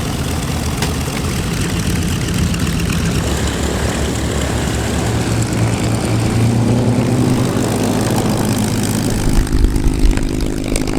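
A vintage warbird propeller aircraft, a B-25 in a formation at an aerodrome, rumbles while taxiing, with a steady loud radial-engine drone that swells toward the end with some wind buffeting.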